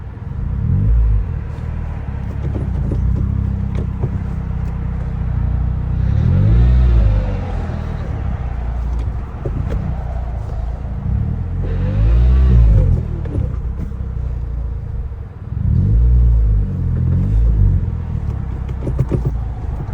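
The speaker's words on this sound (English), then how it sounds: "it definitely sounds like something's grinding inside the transmission" A turbocharged Toyota Corolla with a broken transmission rumbles loudly nearby, engine revving in repeated surges with grinding, strained mechanical noise beneath.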